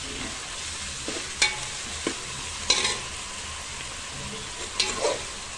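Onions and green chillies sizzle steadily in a hot pan while a fish curry is being made, a constant close frying hiss with a few brief scrapes and clatters of a spoon against the pan.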